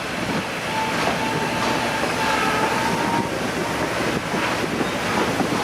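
Carriages of a 1940 vintage train, pulled by a blue engine up curving mountain track, rumble and rattle steadily in a continuous loud wash of noise with a faint squeal, heard from on board without talk.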